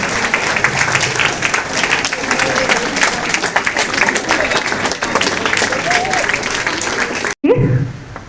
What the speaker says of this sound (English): let's give a huge round of applause for the guest performer today